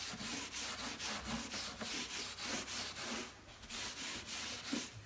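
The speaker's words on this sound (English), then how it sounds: "this is where we're now giving it a scrub with the steel wool" Steel wool scrubbing old painted floorboards during restoration, a steady rhythmic back-and-forth rasp repeating about twice per second, close and alone.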